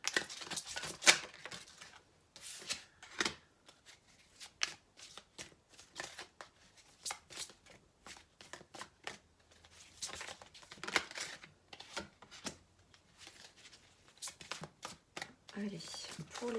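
Tarot cards being shuffled and drawn, giving repeated quick riffling and flicking bursts with soft slaps in irregular clusters, close and fairly quiet, with some faint talk between bursts.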